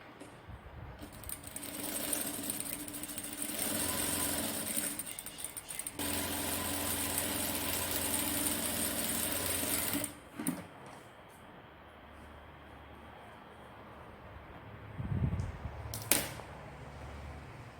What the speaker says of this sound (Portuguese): vou passar uma costura aqui no limite